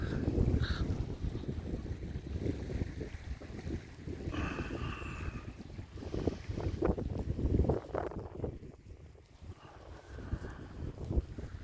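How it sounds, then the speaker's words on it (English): Icy cold wind blows across the microphone outdoors in snowy weather, producing continuous low buffeting rumble and gusty noise at close range. "Got the snow in now, and it's awfully cold. Icy, icy wind."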